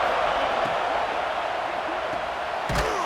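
A football stadium crowd at a Legends Football League game between Miami and Alabama, a loud sustained roar of cheering voices close and full, with a couple of sharp thuds and a brief burst near the end.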